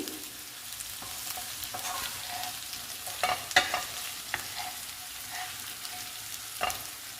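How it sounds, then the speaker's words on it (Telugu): Okra pieces fry in a pan with coriander powder and garlic paste, a quiet sizzle with a few scattered stirring scrapes and soft clinks, close by and without voices. "బెండకాయ ముక్కలు, ధనియాల పొడి, వెల్లుల్లి పేస్టు అన్నీ ఫ్రై అయ్యాయండి."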